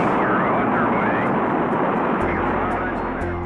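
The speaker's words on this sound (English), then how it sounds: "liftoff." Rocket liftoff from a played recording of a launch countdown, a loud continuous roar of broad rumbling noise that holds steady throughout, with a faint narrator's voice layered over it.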